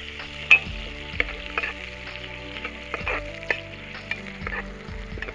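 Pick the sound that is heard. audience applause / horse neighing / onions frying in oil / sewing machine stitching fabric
onions frying in oil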